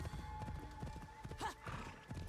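Horse hooves clip-clopping in the video game Assassin's Creed Shadows, a quiet run of rhythmic hoof beats with a brief whinny-like tone in the middle, faint and under ambient game sound.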